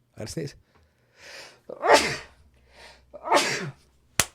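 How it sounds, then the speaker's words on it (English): A person sneezes loudly partway through, with a sharp intake of breath before the burst and some breathy noises around it, close to the listener. "I gotta sneeze."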